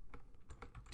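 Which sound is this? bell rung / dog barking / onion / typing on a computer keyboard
typing on a computer keyboard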